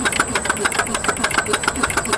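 A transparent two- and four-stroke combustion engine with fully variable valve actuation runs steadily, a fast, even mechanical ticking and clatter repeating several times per second at close range.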